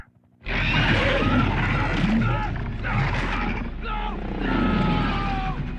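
A helicopter in a movie action scene thunders in loud and close with a dense rotor and engine roar, mixed with shouting voices and other effects.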